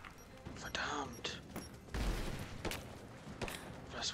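Repeated booming blasts and crackling gunfire from Rise of the Tomb Raider, several sharp hits in quick succession with a heavy thud in the middle.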